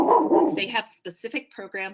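A dog barks in the opening moments, loud and close in the room, before a person's voice takes over for the rest.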